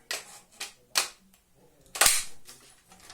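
Toy military gun cocked with a run of sharp plastic clicks and snaps, several quick separate clacks and then one louder latch, close up with no talk.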